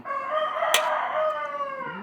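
A rooster crows once in a long, loud, sustained call close by, with a brief sharp click partway through and no speech.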